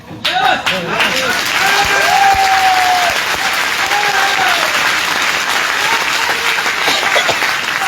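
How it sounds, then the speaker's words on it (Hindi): Loud, sustained applause from a large audience at a sales-motivation meeting, dense clapping running steadily throughout with a few tonal voice-like streaks and cheers over the top. "ताली बजाना तो दोनों हाथ ऊपर करके बजाना, नहीं तो मत बजाना"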